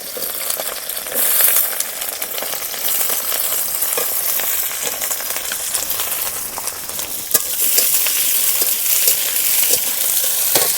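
Chopped capsicum sizzles in hot oil with chopped garlic and chilli, a steady loud frying hiss broken by occasional scrapes and clinks of stirring, with no voices.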